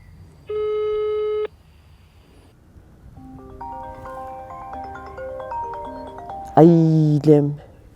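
A telephone busy signal sounds as a single steady tone for about a second, followed by a stretch of layered electronic tones and then a brief voice.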